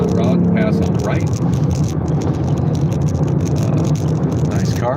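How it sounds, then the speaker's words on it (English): A car passes close by on the right while someone talks over it, its steady road and engine noise filling the cabin beneath a voice inside a vehicle. "He's gonna hot rod and pass on the right."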